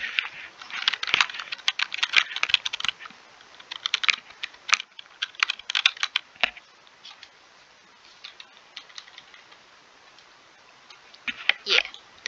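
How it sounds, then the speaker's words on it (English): Rapid computer keyboard typing during Minecraft play, clattering in irregular bursts of keystrokes with brief pauses, close and fairly loud, no voices. "Here are these keyboard sounds."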